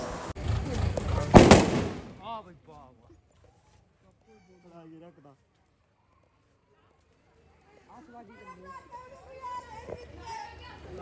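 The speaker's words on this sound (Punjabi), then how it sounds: "ਪਟਾਕੇ" A loud cluster of sharp firecracker bangs crackles in the first two seconds at a Dussehra celebration, then fades to quiet with distant voices and faint chatter.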